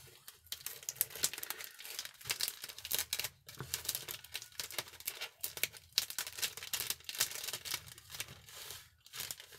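Packaged items being unwrapped, with busy crinkling and tearing of wrapping in rapid, irregular bursts close by, continuing throughout with short pauses.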